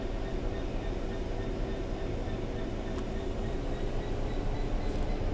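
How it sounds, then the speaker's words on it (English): A Colas Rail Class 66/8 diesel freight train in Train Sim World crosses a bridge, a continuous dense rolling rumble with steady wheel noise throughout and a couple of faint squeals near the end. "Just gotta wait for the whole train to make its way across the bridge."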